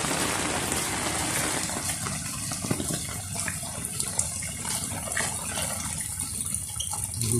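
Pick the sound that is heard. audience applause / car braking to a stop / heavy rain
heavy rain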